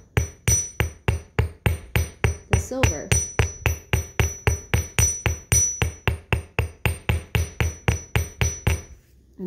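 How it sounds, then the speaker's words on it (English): Steady metallic hammer strikes on a silver ring ringing out in a fast, regular rhythm, dozens of close blows, with a brief spoken phrase partway through. "I'm just gonna come in and start hammering"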